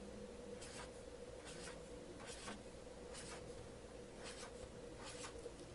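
A pen sketching small disks on paper, heard as short scratchy strokes in a steady rhythm of about six quick bursts, close but quiet over a constant low hum.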